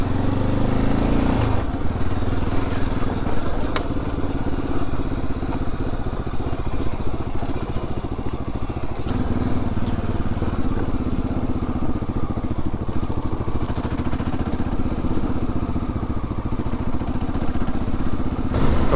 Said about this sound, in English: With the stock exhaust, it is quiet, but still gives a nice sound, a nice growl.